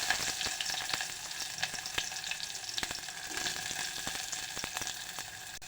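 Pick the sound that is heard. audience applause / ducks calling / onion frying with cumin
onion frying with cumin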